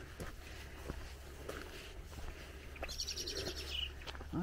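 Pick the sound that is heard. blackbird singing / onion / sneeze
blackbird singing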